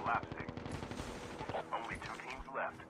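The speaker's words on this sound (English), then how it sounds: "I'm hearing some shots." Gunfire in a Call of Duty Mobile battle royale match, repeated shots and bursts mixed with game effects and some voice, moderately loud throughout.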